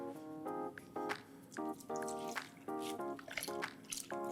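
Coconut milk is poured into pumpkin soup, making soft wet dripping and glugging in short uneven bursts, close up and fairly quiet.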